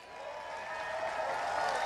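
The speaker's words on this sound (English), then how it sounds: "This crowd was cheering you on" A crowd at the Barbara Fritchie Classic race applauds and cheers the Open Amateur Singles winner, a dense wash of clapping and voices rising slightly through the short burst.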